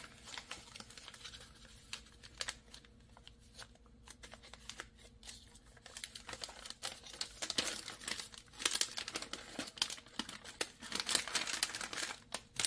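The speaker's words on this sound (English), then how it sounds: "fold these corners over." A plastic MRE ration bag crinkles softly up close as its corners are folded over. The crackles come in irregular bursts that grow busier toward the end.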